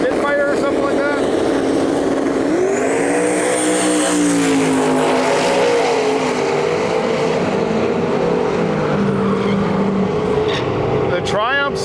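A Turbo Mustang and a twin turbo Triumph Spitfire drag race at Gainesville Raceway, their loud engines revving in rising and falling sweeps that fade off in the distance, with voices talking over the noise.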